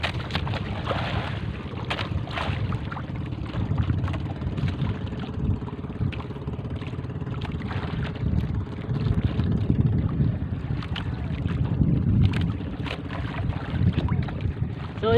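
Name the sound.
pastilan fishing boat approaching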